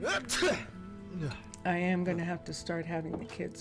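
A single quick sneeze bursts out at the start, close to the microphone, followed by someone talking in a Minecraft Minecolonies mod play session.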